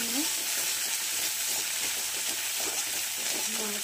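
Fish cooks in hot oil with a dense, steady sizzle, while a utensil stirs it in soft repeated scrapes; the sound is close and continuous throughout.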